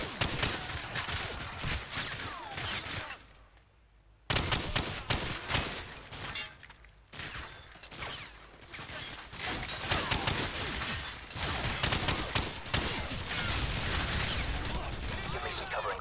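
Dense, continuous gunfire and explosions from the video game Call of Duty 4: Modern Warfare, loud sustained bursts with a brief lull partway through, voices shouting under the battle noise.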